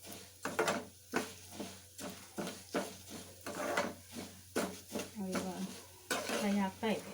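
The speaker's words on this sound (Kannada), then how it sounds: "ಫ್ರೈ ಆಗ್ತಾ ಇದೆ." Moong dal frying in a pan while a spoon stirs it, with repeated scraping strokes in an irregular rhythm over a soft sizzle, close and clear with a steady low hum beneath.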